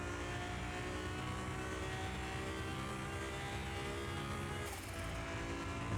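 Nissan GTR R35 tuned to 900 horsepower in Car Mechanic Simulator 2021, engine droning loud and steady at high revs on a speed track, with a brief dip near the end as it shifts gear.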